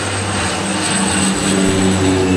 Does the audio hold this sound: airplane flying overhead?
yes